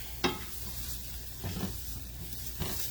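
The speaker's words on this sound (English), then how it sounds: "I hear the sizzle of my bell peppers over here." Bell peppers sizzle in a pan, a faint, steady frying hiss broken by a few soft stirring scrapes, with no one talking.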